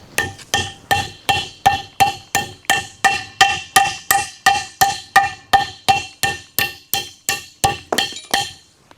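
A hammer taps grease-coated lock pins into a Columbian #206 vise during its restoration, making about twenty evenly spaced, sharp metallic strikes that ring close and clear, with no talk.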